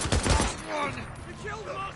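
Enemy gunfire in Days Gone crackles in a quick, rapid burst of shots at the start, then fades under rumbling background noise and a faint voice.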